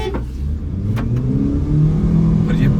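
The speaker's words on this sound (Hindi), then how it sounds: "ये बिल्कुल परफेक्ट लॉन्च हुआ है, दोनों गाड़ियां जुड़ गई हैं अब" A Haval Jolion HEV family crossover and a Nissan Note e-Power launch side by side in a drag race, engines revving and accelerating in a loud, steady rising roar with no talk.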